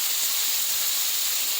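Salmon seasoned with salt and black pepper frying in a pan, a steady bright sizzle with no pauses across the short span.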